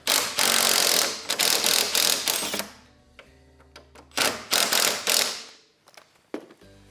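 A 17mm wrench works the nut on the front torque arm of a 2022–2025 Lynx snowmobile, with loud bursts of rapid ratcheting clicks that stop and start, separated by brief quiet pauses.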